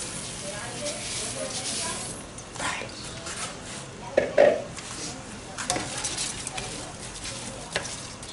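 Rice being sautéed and stirred in a seafood paella pan, a soft steady sizzle broken by scraping and a few sharp clinks of a utensil against the metal pan, with a voice talking over it.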